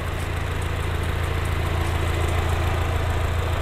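A third-generation Mini Cooper S JCW engine idles steadily with the bonnet open, heard close up from the engine bay as an even, continuous low hum and mechanical drone with no revving.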